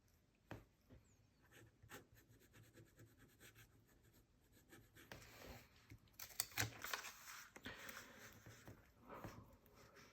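Pen or pencil scratching across paper while notes are handwritten, a quiet, close, irregular scribbling that grows busier and louder in the second half, with no talk.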